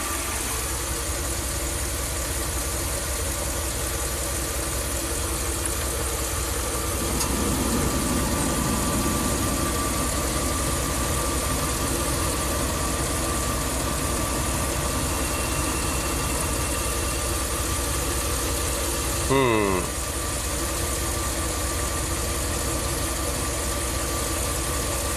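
A Ram camper van engine idles steadily after a hot soak, a loud, continuous mid-pitched hum with a brief rising squeal near the end and no talking.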